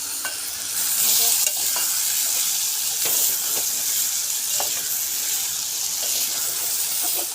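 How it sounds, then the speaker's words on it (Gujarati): Vegetable curry stirred as it fries in a pan, a steady close sizzle with repeated scraping strokes of the spoon at a regular rhythm, no voices. "હલાઈ નાખી મિત્રો ઉપર બળી જાય"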